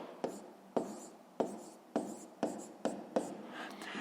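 A pen writing on paper while working a fifth-grade maths exercise, heard as seven short, distinct scratchy strokes at an even pace, close and fairly quiet, with no talking.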